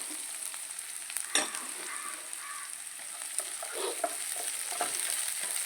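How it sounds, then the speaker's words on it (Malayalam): Green chili and ginger frying in oil in a pan, a soft continuous sizzle with occasional crackles and a few clinks of stirring, fairly faint and close, with no talking. "മുളക് ഇഞ്ചിയൊക്കെ നല്ലോണം മൂത്തിട്ടുണ്ട്."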